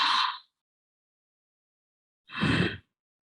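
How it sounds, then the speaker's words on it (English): Two slow, audible Ujjayi breaths carry a hoarse, Darth Vader-like rasp. A short breath opens the clip, then a long silence passes before a second, fuller breath. The breathing is close and clear, with no talk. "Some people also call it Darth Vader because it sounds like Darth Vader when you breathe."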